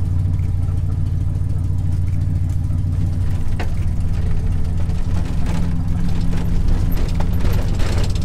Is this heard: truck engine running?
yes